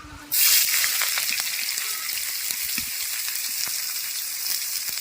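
Chopped onions hit hot oil in a wok for frying jute greens, bursting into a sudden loud sizzle that holds as a steady, crackling hiss.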